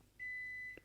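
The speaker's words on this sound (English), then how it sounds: "sorry about the beeping. The microwave has my food and it's ready." A microwave oven beeps once when the food is ready: one steady, sustained electronic tone of about half a second, clear but fairly soft, in an otherwise quiet room.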